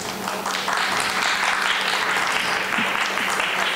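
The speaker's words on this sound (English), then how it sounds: "So, can we have a round of applause for this?" A seminar audience at an Odissi dance event applauds steadily, a dense, even wash of many hands clapping at a constant level throughout, with a faint low hum underneath and no voices.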